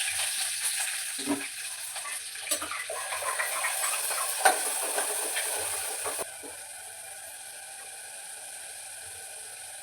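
Cumin and mustard seeds crackle and sizzle in hot oil, a steady close frying hiss with small pops and stirring scrapes that eases off partway through.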